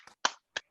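Over a video call, a few participants clap for Reverend Jones, giving three quick, sharp, separate claps that sound faint and thin.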